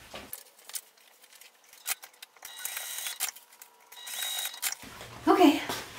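A sewing machine basting two fabric pieces together for a car caddy bag, short mechanical whirring and clacking bursts separated by quiet pauses, close and moderately loud.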